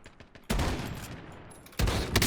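Close, loud bursts of automatic gunfire in the video game Call of Duty Warzone: one sustained volley, then a second burst starting near the end, with no talk.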